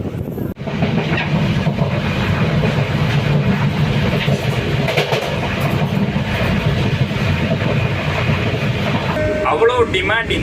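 The Madurai-Punalur Express runs with a loud, steady rumble and rattle of its carriages, continuous throughout, with a faint voice and a few brief tonal sounds near the end.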